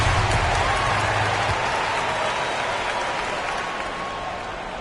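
Basketball arena crowd applauding and cheering after a basket, a dense, loud, steady wash of clapping and crowd noise that fades slightly toward the end.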